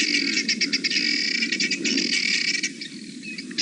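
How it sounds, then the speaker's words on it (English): Birds giving alarm calls in the bush near a leopard, a dense chorus of sharp, repeated chirps and trills over a steady insect drone, fairly close and continuous. "Listen to that cacophony of alarm calls that we can hear."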